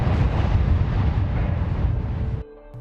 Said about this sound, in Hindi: अचानक एक जोरदार धमाका हुआ